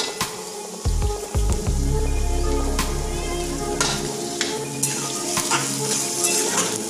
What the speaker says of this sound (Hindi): अब हम इसमें डालते हैं प्याज, प्याज को थोड़ा सा सुनहरा भून लेंगे हम